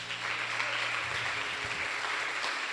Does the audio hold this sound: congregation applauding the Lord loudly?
yes